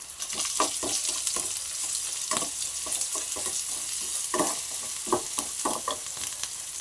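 Onions, chillies, curry leaves, crushed ajwain and garlic stir-fried in a pan: a steady soft sizzle under repeated rhythmic scraping strokes of a spatula, close and fairly quiet.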